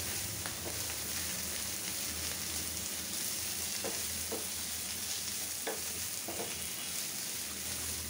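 Bottle gourd greens fry in a generous amount of oil with a dense, steady sizzle and occasional scraping stirs of a spatula, close and continuous.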